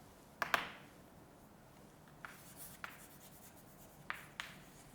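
Chalk or marker taps and short strokes on a classroom board during a grammar lesson, a few quick bursts spread apart and fairly faint with no talk over them.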